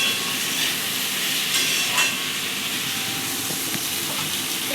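A pan of small fish cooking over the heat gives a continuous loud hiss of frying, broken by a brief scrape or two as it is stirred, with no talking.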